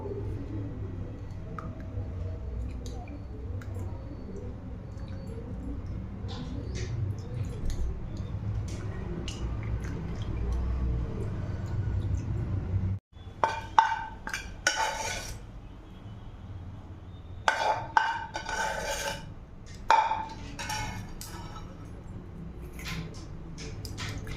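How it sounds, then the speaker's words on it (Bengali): Homemade ghee being pressed and strained with a small spoon: a low background hum first, then intermittent scraping, clinking and soft squishing of metal against a strainer and pot, close and moderately loud, with no talk. "চামচ দিয়ে এভাবে আস্তে আস্তে ছেঁকে দিতে হবে"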